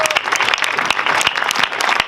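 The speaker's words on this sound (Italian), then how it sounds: "devo fare anche un grosso applauso al nostro secondo organettista che oggi è qua, Giovanni Magrini." An outdoor audience at a Gallura folk group performance in Capo Comino claps for the second accordion player, a dense burst of applause filling the whole moment.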